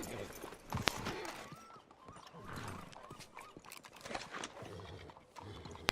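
Horse hooves clip-clop in Red Dead Redemption 2, mixed with a neigh and other game sounds at moderate level, with a couple of sharp clicks.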